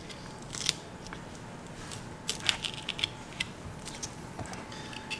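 A knife cuts through the tough skin of a large trigger fish, giving faint crunchy snips and crackles, scattered and close over a quiet background.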